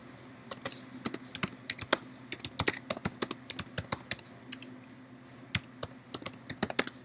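Keys clatter on a computer keyboard in quick, irregular bursts of close, crisp taps, like someone typing or hitting shortcut combinations, with no voices over them.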